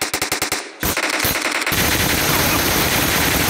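Rapid automatic gunfire in a PUBG squad match, a burst of evenly spaced shots followed by a sustained, dense roar of continuous fire, loud and close with no talking.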